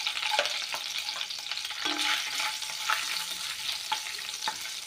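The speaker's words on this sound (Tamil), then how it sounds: "இப்போ பாதாமை ஃப்ரை பண்ணி எடுத்துக்கோங்க." Almonds fry in ghee in a pan with a steady, close sizzle. Occasional soft stirring scrapes and clicks break through, and no one speaks.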